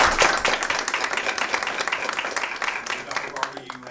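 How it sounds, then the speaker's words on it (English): Applause from the audience at a school board meeting after a unanimous vote, dense clapping filling the room for about four seconds and tapering slightly toward the end. "I think they deserve a round of applause."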